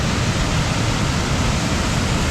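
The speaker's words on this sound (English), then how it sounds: "This is what I call the new waterfall." A waterfall on Nihahi Creek pours in a steady, dense rush of water that fills the whole sound, with no pauses or other noises.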